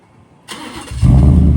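A lifted Ford F-150 pickup truck is started remotely: a brief whirring crank gives way after about half a second to the engine catching into a loud, deep, steady rumble, close by and without talking.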